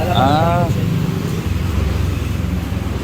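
A Yamaha Aerox V2 scooter engine runs steadily while its fuel injectors are cleaned with BG products without disassembly, a close, continuous idle drone with a brief squeal at the start.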